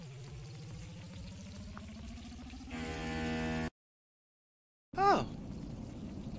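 Food frying on a fire while cooking in the video game Air Marty, a soft steady sizzle with a tonal rising cue, then a brief silence and a sharp chiming effect.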